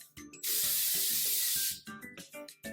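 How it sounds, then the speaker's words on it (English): Cooking spray sprayed onto a crepe pan on a stove, a single steady hissing burst of just over a second between light clatter and background music. "let's spray the pan so that our crepes don't stick to it"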